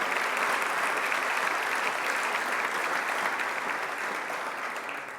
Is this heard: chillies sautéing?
no